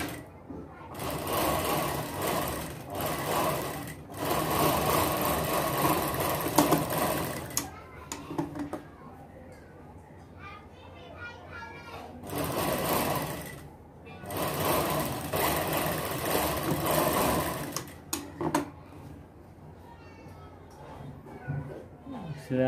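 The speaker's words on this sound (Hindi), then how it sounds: "इधर हम सिलाई लगा देंगे पहले" A sewing machine stitches a three-layer baby frock in loud sustained runs separated by pauses. Between the bursts there are quieter stretches of cloth handling and someone speaking.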